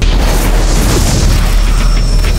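A white orchid explodes in a fantasy film scene, a deep sustained boom with heavy low rumble and crackling burst, loud and filling the short stretch alone.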